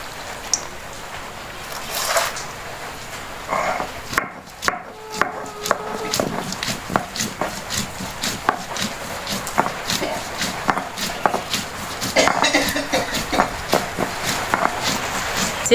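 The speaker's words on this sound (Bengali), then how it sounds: "তারপরে শিলপাটাতে বেটে নিব।" Soaked corn kernels are hand-ground on a shil-pata grinding stone, producing irregular close scraping and knocking strokes that repeat steadily with short pauses.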